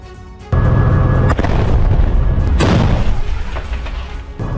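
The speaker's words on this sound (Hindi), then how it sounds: "गाजा में ये विस्फोट हमास की सुरंगों पर किए जा रहे हैं।" A sudden heavy explosion booms out as Hamas tunnels in Gaza are demolished, followed by a long rumbling roar of debris and blast noise that slowly fades, with another thud near the end.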